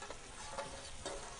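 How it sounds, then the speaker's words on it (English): Utensil scraping a pan of New Orleans BBQ shrimp marinade, a few short scrapes over a steady low sizzle, close and fairly quiet. "So I'm going to scrape the pan"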